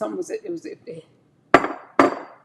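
A glass bottle, chipped, is tapped twice in quick succession, giving two sharp ringing clinks that fade, right after a brief stretch of a person talking.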